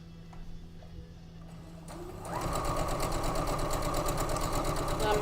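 A borrowed sewing machine straight-stitches fabric, kicking in after about two seconds of near quiet and then whirring loudly and steadily with a rapid mechanical chatter until the end.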